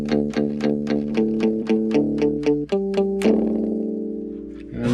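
A Yamaha EZ-EG MIDI guitar on its number 7 palm-mute tone plays a fast run of short, choppy muted notes in drop D, then ends on a few longer sustained notes, loud and close.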